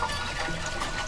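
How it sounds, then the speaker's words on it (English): Water pours and trickles steadily into the water pan of a smoker being readied for smoked chicken, a continuous close splashing flow with no talking. "I'm gonna get some water down here into the water pan."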